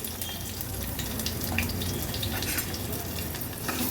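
Garlic, green chilli, curry leaves and asafoetida fry in ghee over a medium flame, a close, steady crackling sizzle with light stirring scrapes throughout, no voices.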